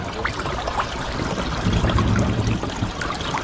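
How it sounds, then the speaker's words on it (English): Water pours into a floating car as it sinks, a constant near rushing and trickling flow with small gurgles and splashes, no talking over it. "it's still filling with water"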